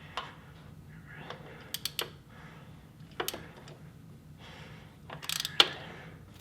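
A socket wrench works a spark plug loose on a 2003 Ford Mustang Mach 1, giving quiet scattered clicks and a few sharper ratchet ticks in a low-level garage space, with no talking.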